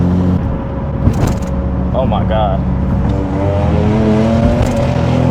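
An Infiniti Q60 with upgraded turbos and its exhaust valves closed idles and revs with a steady low engine drone and rising pitch sweeps, heard from inside the car with a voice speaking briefly.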